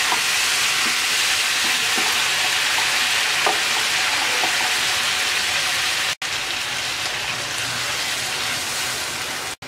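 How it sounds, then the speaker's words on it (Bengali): Water goes into a pan of rui fish and potato curry with data stems and green chilies, raising a steady loud hiss and sizzle that fills the clip, with a brief cut near the end. "সব কিছু কষিয়ে নেওয়ার পর দিয়ে দিচ্ছি পরিমাণ মতো পানি।"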